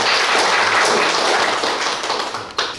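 Audience applause at an urgent policy forum on IP governance for the AI era, a dense, loud wash of clapping from a seated crowd that holds steady and then thins out toward the end.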